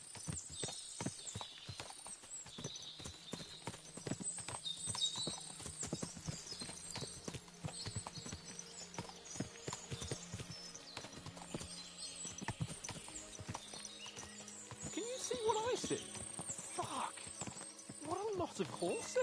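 Horse hooves clip-clop steadily, with several horses whinnying, under ambient game sounds and occasional voices.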